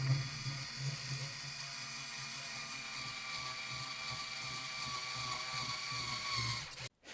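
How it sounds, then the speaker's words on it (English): A small 3.6V cordless screwdriver whirs continuously at high speed drilling a pilot hole, a steady mechanical whine close by, ending abruptly with a brief clunk. "simply drill a pilot hole for the screw to go inside"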